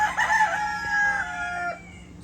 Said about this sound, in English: they're gonna try to outdo each other in a vocal fight to see who can make the louder caw, or the louder cock-a-doodle-doo.